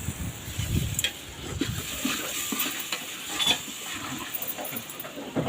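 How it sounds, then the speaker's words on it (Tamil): A ladle stirs mutton biryani in a large pot, giving continuous close scraping and sloshing with faint sizzling and a few metallic clinks, loud throughout with no talking. "சுத்தி கிண்டுங்க மாஸ்டர். அண்டாவுக்கு வலிக்காம கிண்டிட்டு இருக்கிறீங்க."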